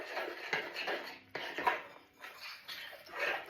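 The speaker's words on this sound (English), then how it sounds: "and now we're going to stir it." Pancake batter with milk and an egg being stirred in a bowl, with a run of soft scraping and clinking strokes against the bowl's sides, close and fairly quiet, with no talk.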